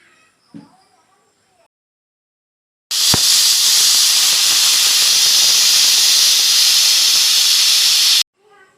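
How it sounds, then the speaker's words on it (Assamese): A loud, steady jet of hissing steam bursts from a pressure cooker whistle and holds for about five seconds, then cuts off abruptly, with faint kitchen clatter before it. "এয়া 4টামান চিটি অহালৈকে আমি গেছত উঠাই দিছোঁ"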